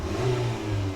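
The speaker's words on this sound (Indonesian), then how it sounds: "Ini responsif soal mesin-mesinnya, akselerasi, torki. Kita gas," A Mitsubishi XForce engine revs as the car accelerates, a steady mid-pitched drone with a smooth rising hum heard from inside the cabin, loud and without talk.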